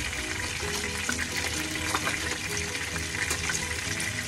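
Fish frying in hot oil in a covered pan, a dense, steady sizzle and crackle close by, continuous and unbroken throughout.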